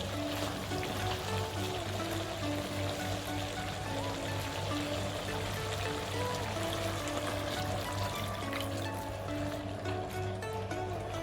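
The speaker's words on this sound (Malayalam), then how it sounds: "ഇനി ഇതിലേക്ക് നമുക്ക് 2-ാം പാൽ ഒഴിക്കാം." Second-press coconut milk pours into a simmering chicken curry, a soft, continuous watery pouring and bubbling, faint and steady, with gentle tonal music underneath.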